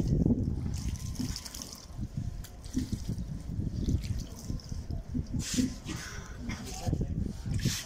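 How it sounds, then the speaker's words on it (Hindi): Water poured over the head of a body during an Islamic funeral washing, a soft trickling and splashing stream that runs on and off, with someone talking over it throughout. "उसके बाद हम पानी डालेंगे सर पर इसके।"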